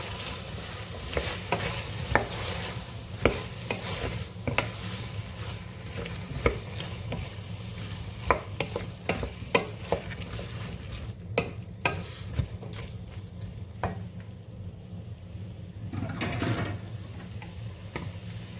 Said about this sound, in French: Ensuite, je mélange.